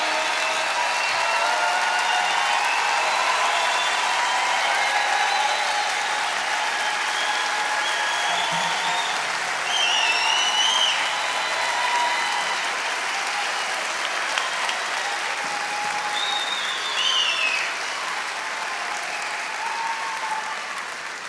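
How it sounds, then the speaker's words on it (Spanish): An audience applauds in a sustained, dense round of clapping that stays steady and loud for about twenty seconds, with no voices standing out. "Fuerte aplauso para él."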